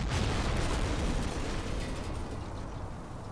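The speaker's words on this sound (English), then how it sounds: "The gun takes a couple of shots and manages to take it out." An anti-tank gun firing on a Panzer IV in the wargame Combat Mission, heard as a dense, rumbling explosive roar that slowly fades, with no voices.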